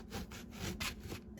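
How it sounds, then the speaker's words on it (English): Knife cutting eggplant into thin slices, a steady run of soft, close rhythmic strokes, one after another with no talking. "I'm going to continue to cut my eggplants"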